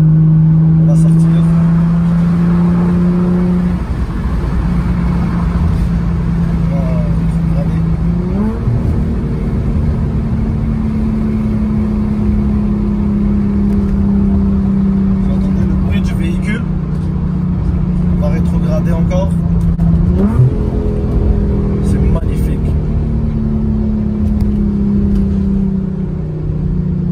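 An Infiniti G35 with ceramic brakes is driven out onto the road, its engine droning steadily under the cabin, rising and shifting through gears several times, while people talk over it throughout.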